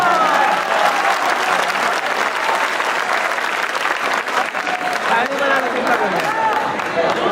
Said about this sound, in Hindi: एक मर्तबा सब मिलकर जोरदार तालियां बजा दीजिए।